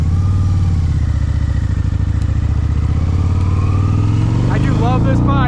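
A 2004 Harley-Davidson motorcycle engine idles loud and close in a steady throbbing rumble, with a voice briefly rising over it near the end.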